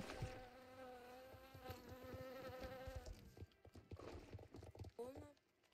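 Steady bee buzzing hums through a Star Stable Online game scene, with light clopping horse hoofbeats and scattered clicks underneath, gradually thinning toward the end.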